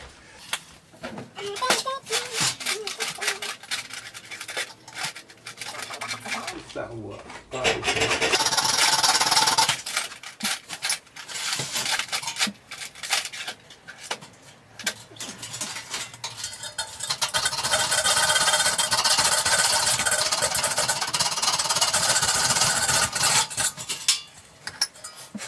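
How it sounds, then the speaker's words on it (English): A metal-cutting jigsaw blade saws through an R2-D2 droid dome, giving long stretches of loud rasping, grinding cuts broken by pauses and lighter scraping and handling noises, with some brief talk. "I didn't have any hacksaw blades, so I've tried a jigsaw blade, a metal cutting jigsaw blade, and that seems to do the job fine."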